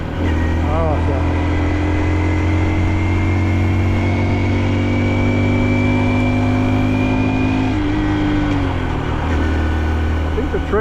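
A Honda Dax mini moto engine while riding, with a loud, steady drone close by that drops in pitch partway through during a rough gear shift.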